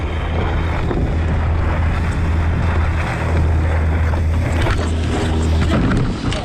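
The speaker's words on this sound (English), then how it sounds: "as the other boat passes" A boat engine drones steadily across the water, loud and close, with wind buffeting the microphone and splashing waves underneath.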